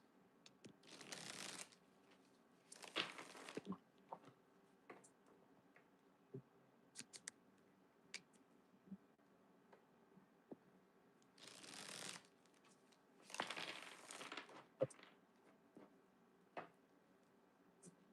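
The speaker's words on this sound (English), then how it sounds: "Shuffle these." Tarot cards being shuffled by hand during a live tarot reading, four distinct riffling bursts of a second or so each, with quiet soft handling noises and light taps in between.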